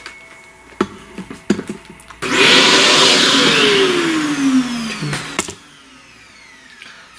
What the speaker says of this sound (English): It's a vacuum.